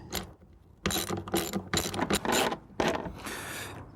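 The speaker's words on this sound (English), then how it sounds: "we'll take our lag screw, which I have right here, and a socket wrench, and we'll drive these in" A socket wrench drives lag screws into a gate, with bursts of rapid ratcheting clicks and creaking wood in several close, loud strokes and short pauses between.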